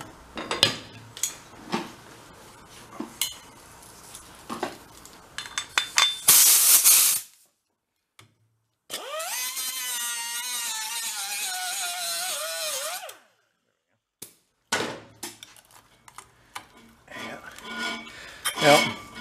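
Metal grinding on an old Harley golf cart transaxle pulled from a scrapyard, one that had been underwater. Loose metallic clanks and rattles come first, then about four seconds of steady, loud, high grinding whine, then more clattering.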